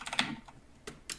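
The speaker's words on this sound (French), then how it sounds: "il a juste des switches bleus, il fait 3 milliards de fois trop de bruit" Brief burst of typing on a mechanical keyboard with blue switches, a few sharp clicky keystrokes close up and loud, with a short pause between them.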